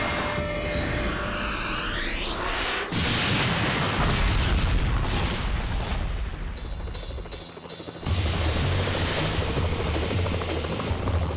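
A helicopter in the video game Dino Crisis 2 roars loudly and continuously, mixed with heavy booms and explosion-like bursts that shift in intensity.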